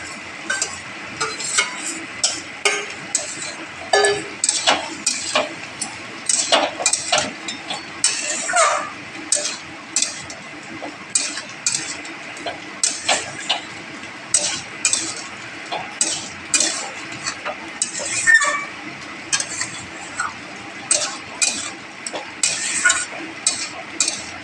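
Potatoes and peas for mutton keema ghugni are stirred in a sizzling pan, a spoon scraping and clinking in an irregular rhythm over a steady frying hiss, close and clear.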